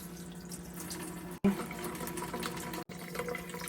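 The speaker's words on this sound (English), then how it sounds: "we rinse them really well under the clean running water" Hands are rinsed under clean running tap water at a sink, a steady close splash of flowing water with a couple of brief interruptions as the hands move through the stream.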